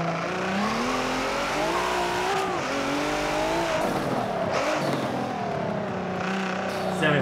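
A race car's tires squeal in Forza Motorsport 7, a wavering high screech held over the droning engine as the car corners, loud and continuous throughout.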